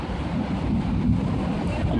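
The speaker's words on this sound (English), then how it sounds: "We are about to get hit with hurricane force winds." Hurricane-force winds from a supercell derecho storm in Stockbridge, Georgia, carrying large hail, roar as a steady, heavy wind that buffets the microphone close up with a deep rumble throughout.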